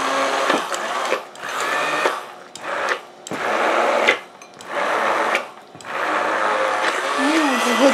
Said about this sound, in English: Making all 3 bananas like banana puree with my blender.